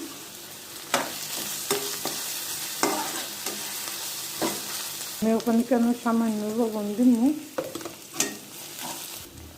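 Onions fry in a pan for a greens dish, a close sizzle punctuated by sharp scraping stirs, while someone speaks over part of it.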